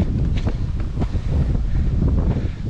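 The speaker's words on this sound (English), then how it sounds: "Bit of wind." Steady wind buffeting the microphone on a mountain hiking trail near Rio, a continuous low roar with gusty swells throughout and no speech.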